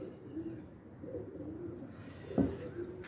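A Teddy pigeon coos softly with low, throaty murmurs, followed by a brief sharp knock, all fairly quiet against a calm background.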